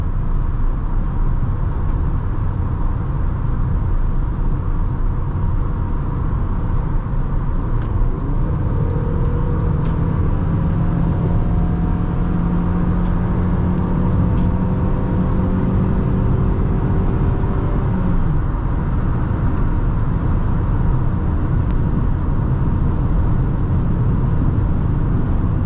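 A 2009 Honda Accord LX cruising at 70 mph fills the cabin with a steady, loud low rumble of road and engine noise, with a faint whine rising partway through and no talking.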